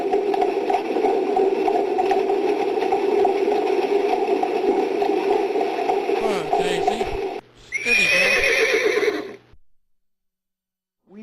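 A horse named Daisy lets out a long, loud whinny that carries for several seconds, followed by a short rattling burst before silence falls.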